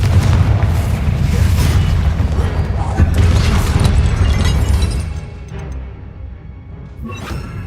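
A Confringo blasting spell explodes in Hogwarts Legacy, a heavy booming blast with dense rumble that holds loud for about five seconds before thinning into a quieter tail, a faint voice mixed in.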